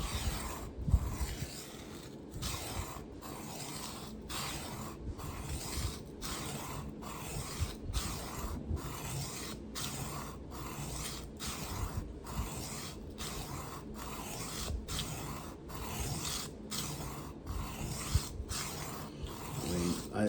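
Kabar knife steel, a 1960s to 1980s non-super steel, is worked on diamond sharpening stones. The result is steady rhythmic rasping strokes, roughly one per second, that repeat evenly and sit close up with no voices.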